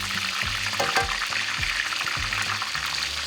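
Breaded steak frying in hot oil, a steady bright sizzle with bubbling crackle throughout, punctuated by soft low thumps as the meat is pressed down in the pan; no talking.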